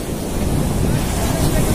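Ocean waves breaking on a beach at Boiçucanga, a loud continuous wash of surf blended with wind buffeting the microphone, close and unbroken.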